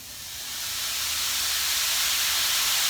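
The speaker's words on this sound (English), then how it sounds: "You can add a little splash of water if you feel like it needs it, but we don't want to add too much to really steam the broccoli." A splash of water hits broccoli char-grilling in a hot pan, rising into a loud, sustained sizzling hiss of steam that keeps going for several seconds with no voices.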